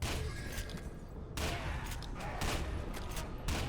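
Rapid bursts of gunfire from shooting at ghosts in the video game F.E.A.R. 2, several dense volleys separated by short gaps, fairly loud and without speech.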